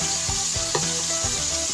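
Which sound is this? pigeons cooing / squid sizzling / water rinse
squid sizzling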